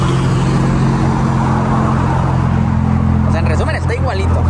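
Steady loud engine drone of a Nissan GTR driving inside the car, a continuous low rumble with someone talking over it throughout.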